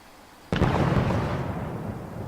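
A single loud, close blast of gunfire in the video game Fortnite hits suddenly and is followed by a long, rumbling decay, with no talking.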